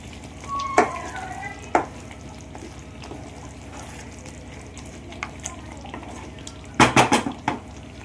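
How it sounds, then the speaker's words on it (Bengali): Chicken pieces with malai are stirred in a pan for makhmali chicken: a soft, low sizzle punctuated by a few sharp metal clinks and scrapes, with a cluster of utensil knocks near the end. "দিয়ে আমি একবার ভালো করে চিকেনটা নাড়াচাড়া করে নেব।"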